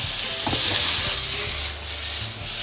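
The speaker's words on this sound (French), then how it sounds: "Là j'essaie de bien faire colorer ma volaille" Poultry browning in a pan with a steady frying sizzle, with stirring and clinks from a utensil scraping the pan, close and fairly loud throughout.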